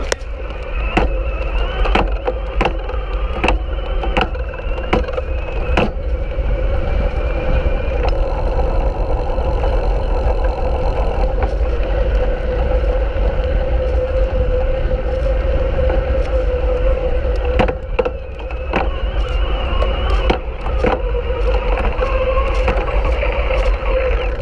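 An electric bike with a Bafang MAX mid-drive motor shifting roughly while ridden: a steady, loud riding roar is broken by a series of sharp clunks, bunched early on and again near the end, with no talk.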